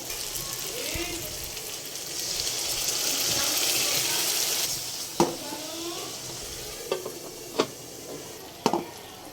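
Hilsa fish dopeyaja simmers and sizzles in a pan after a splash of water goes in, a steady hiss with a brief louder surge, then a few sharp clinks and taps near the end.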